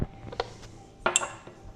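A spoon mixes flour and water for a sourdough starter in a glass jar, producing a few scattered light clinks and taps against the container, fairly close and otherwise quiet.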